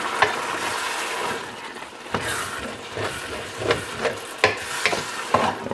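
A frying pan being deglazed with pigtail stock, rice scraped off the bottom, giving steady sizzling with scattered stirring scrapes and knocks, close and moderately loud.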